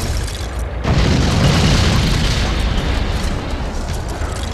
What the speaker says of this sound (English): And it's also got some non-violent explosions.